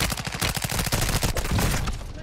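Rapid automatic gunfire in the Warzone video game, a close, loud run of sharp shots with a few irregular gaps, continuing throughout.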